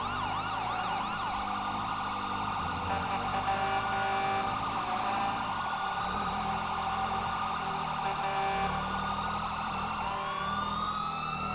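Police car sirens in the FiveM video game wail continuously, with a fast yelp pattern and a steady wailing tone layered over an engine hum at moderate level, and no talk.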